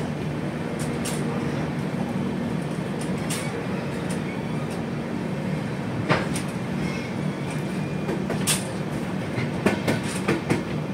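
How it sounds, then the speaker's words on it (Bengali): Brahmaputra Mail passenger train pulling out of New Bongaigaon Junction in the evening, a steady rumbling roll with occasional clacks and squeaks over the wheels, continuous and moderately loud with no talk. "দশ মিনিটের অফিসিয়াল হল্টের শেষে ট্রেন নিউ বঙ্গাইগাঁও জংশন ছেড়ে সন্ধ্যে 6:37 তার পরবর্তী গন্তব্য কোকরাঝাড় রেলওয়ে স্টেশনের উদ্দেশ্যে রওনা হলো"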